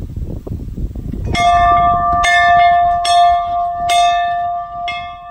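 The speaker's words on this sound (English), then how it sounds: "We have a dinner bell." A farm dinner handbell rings out repeatedly, about five clear metallic strikes with long ringing tones, loud and close, following a brief bit of shuffling noise.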